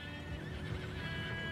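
A horse neighs in a long, wavering whinny while hooves clop underneath, close and clear, in the video game Red Dead Redemption 2, with no talk over it.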